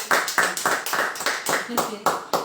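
A small group claps at the close of a church Bible-reading broadcast, with steady, evenly paced hand claps repeating throughout, close and fairly loud.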